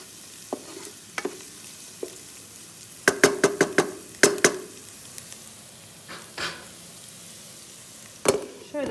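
Spinach and mushrooms fry in a pot on a home stove, with a steady low sizzle. A metal utensil clicks and scrapes against the pot in scattered bursts, including a quick run of taps.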